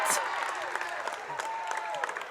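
Home crowd at a Tonganoxie Chieftains high school basketball game applauding and cheering an and-one play, sustained clapping and shouts from the stands, with a commentator's voice running over them.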